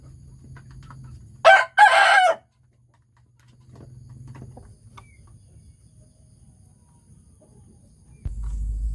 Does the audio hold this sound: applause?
no